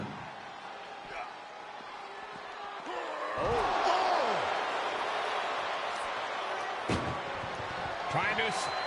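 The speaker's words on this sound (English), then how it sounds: "Trying to at least slam one door shut." Heavy metallic slams of ambulance doors in the WWE 2K24 wrestling video game ring out against crowd noise and a commentator's voice, with a couple of sharp booming hits.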